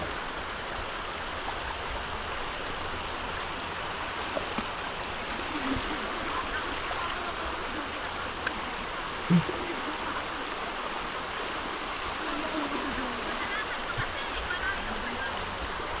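A steady, rushing river in Occidental Mindoro fills the whole stretch, constant and broad with no breaks, a few faint knocks now and then.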